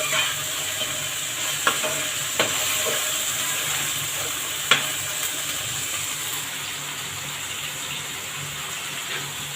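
Beans sizzle in a pan of frying onions and ginger paste, a loud continuous hiss with a few faint clicks from a utensil scattered through it.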